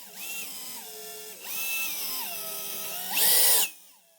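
A power screwdriver drives screws into a furniture fitting in three whirring bursts, each rising in pitch as the motor spins up, the last one louder and harsher before stopping.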